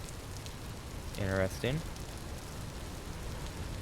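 Rain falls in a video game as a continuous hiss of drops on surfaces, steady and moderately loud, while someone briefly speaks over it.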